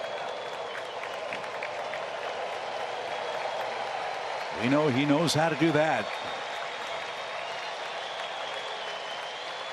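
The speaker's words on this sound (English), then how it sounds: "Crowd cheering him on with the 2-2 pitch." A baseball stadium crowd at an Astros–Braves game cheers and applauds in a loud swell lasting over a second, under a broadcaster's ongoing commentary.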